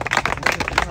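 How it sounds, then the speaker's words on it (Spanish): Brief patter of hand clapping from the crowd at a freestyle rap battle final, moderately loud and short. "También quiero mandar un saludo y un fuerte aplauso a Esquizo por seguir rifándose con los beats"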